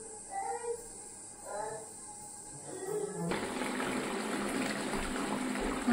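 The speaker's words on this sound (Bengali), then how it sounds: "দেখতেই পাচ্ছেন আমি কতটুকু জল দিই।" Hot water pours into a katla fish mustard curry, a sudden steady gushing splash that starts partway through and continues strongly to the end, with speech before it.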